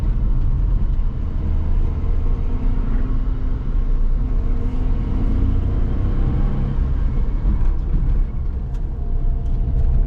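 A high-mileage Suzuki Jimny with 150,000 km climbing a mountain road, its engine droning as it pulls under acceleration beneath heavy low rumble and road and wind noise, steady and close throughout with no talk.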